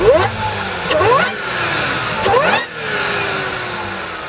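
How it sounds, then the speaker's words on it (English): A supercharged Audi S5 engine revs up twice in quick bursts, the pitch sweeping upward each time, with a high supercharger whine riding on top before settling to a steady drone. "The supercharger whine is pretty cool."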